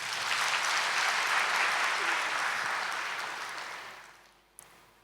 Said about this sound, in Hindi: वह इनके लिए जोर से ताली बजाओ